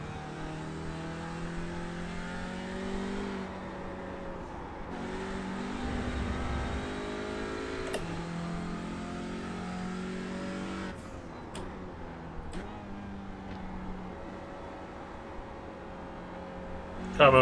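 Sim racing engine of an IMSA prototype race car lapping Spa-Francorchamps in iRacing, a loud steady roar with shifting pitch as it accelerates, brakes and downshifts through corners, with no talk over it.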